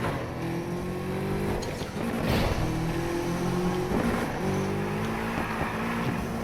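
A Nissan Skyline set up for drifting in a video game, its engine revving in rising tones that climb, drop and climb again across several gear pulls, loud and close with no talk.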